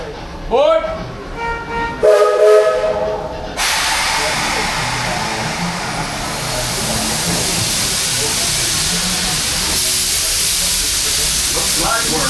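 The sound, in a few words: steam train departing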